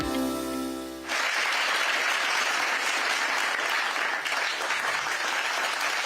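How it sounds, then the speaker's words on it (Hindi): A large audience breaks into loud, sustained applause at a government event with the Union Finance Minister, the clapping starting abruptly after a brief musical tone and continuing evenly to the end. "आइए एक बार फिर हम भी बहुत बहुत तालियों से धन्यवाद करें"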